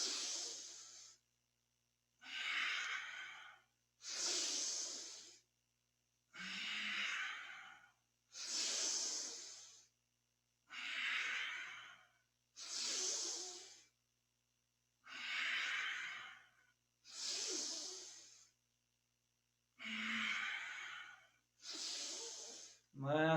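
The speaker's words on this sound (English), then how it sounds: "it's best to inhale, coming up, and exhaling, going down" Slow, steady breaths during a Kundalini yoga spinal flexibility kriya, about a dozen airy, hissing strokes alternating inhale and exhale at an even rhythm, close and clear with short silences between.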